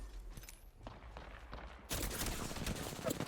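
Wingman pistol shots in Apex Legends ring out as a burst of gunfire that starts abruptly partway through, loud and dense, after a quieter stretch of faint game ambience.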